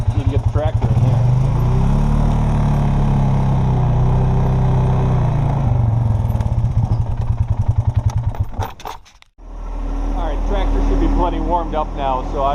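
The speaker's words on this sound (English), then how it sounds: "Now I just gotta go get the tractor warmed up." A tractor engine warms up during snowstorm preparations, chugging loudly and steadily with a rough clatter. It drops out abruptly and then restarts, and a person talks over it.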